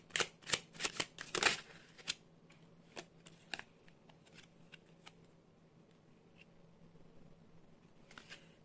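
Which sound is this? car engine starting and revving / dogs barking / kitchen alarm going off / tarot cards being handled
tarot cards being handled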